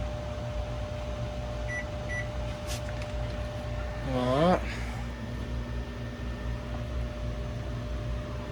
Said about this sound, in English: I'm gonna pop this in the microwave.